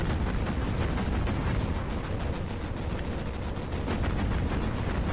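Anti-aircraft guns firing at enemy planes in the Battlestations Pacific naval combat video game, a dense continuous roar of rapid gunfire and blasts, loud throughout with no talking.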